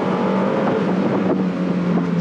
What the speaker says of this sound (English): Sounds pretty good, this car.